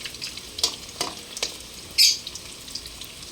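Corned beef frying in a pan, with faint crackling and a few brief sizzle bursts over a quiet, steady background.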